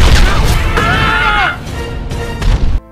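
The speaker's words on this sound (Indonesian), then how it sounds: "Pesawat mereka meledak" A loud booming explosion of an aircraft in an animated Minions film, with crashing debris and a whistling, falling tone, followed by a second burst of impact noise before cutting off.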